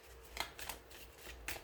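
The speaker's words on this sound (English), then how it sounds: "let me do one more little shuffle here." A deck of tarot cards being shuffled by hand, quiet papery riffles and soft flicks in a few short bursts, close and faint.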